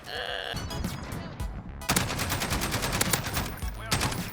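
Rapid bursts of automatic gunfire in a video game, loud and close, rattling in dense strings with short gaps between volleys and a brief break near the start.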